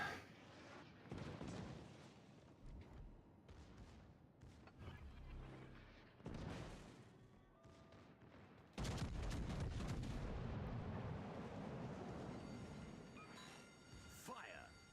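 Ship guns firing at a cruiser in a naval video game, heavy booming salvos and rumbling blasts rising to a loud sustained barrage near the end, mixed with someone talking over the game sounds.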